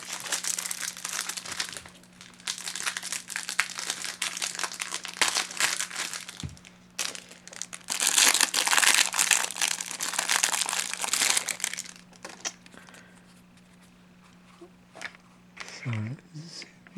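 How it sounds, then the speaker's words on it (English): The plastic wrapper of a Magic The Gathering Innistrad Crimson Vow prerelease pack crinkles and crackles close up in long, busy bursts with short pauses. A voice talks over part of it, and a faint steady hum runs underneath. "Let's open up and look, see what's in the pre-release specific cards that we get."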